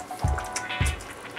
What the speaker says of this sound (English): Add some oil.